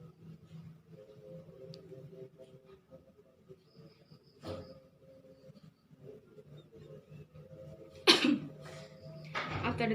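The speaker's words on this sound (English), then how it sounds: "use a mask when coughing" A person coughs a couple of times, short harsh bursts with quiet stretches and faint background voices between them, followed by a louder cough near the end.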